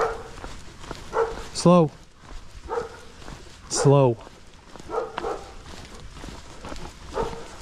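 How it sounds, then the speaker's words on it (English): Huskies being walked outdoors, with two loud whining yelps a couple of seconds apart over steady footsteps, while someone talks to the dogs. "Here we are walking the dogs."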